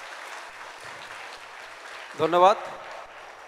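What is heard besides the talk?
applause from school audience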